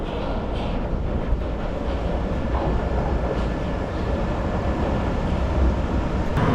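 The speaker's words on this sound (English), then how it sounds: "The train came in a couple of minutes late" A London Underground Piccadilly Line train pulls into a platform at Heathrow Terminal 5, a steady loud rumble and rolling roar that holds evenly throughout with no voices.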